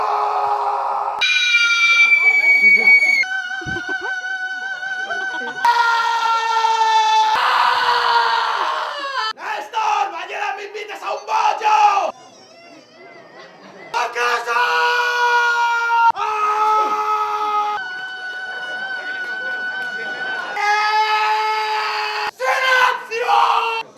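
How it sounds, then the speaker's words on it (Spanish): People screaming and yelling at a shouting contest, a series of loud, sustained, high-pitched screams one after another, each held for a few seconds with brief pauses between. "Concurso de gritos."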